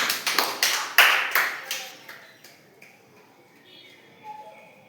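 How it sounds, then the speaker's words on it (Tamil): Claps from an audience at a yoga festival, a quick run of sharp, loud hand claps in the first two seconds that thins out into scattered fainter claps and quiet background sounds. "கை தட்டுங்க, ஆரவாரம் பண்ணுங்க."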